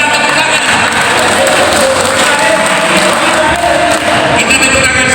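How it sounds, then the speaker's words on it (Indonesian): Audience applause following an introduction at a talk on the history of the Gulö clan, a steady dense wash of clapping that holds throughout at close range with a crowd murmur beneath. "Kita tepuk tangan sekali lagi."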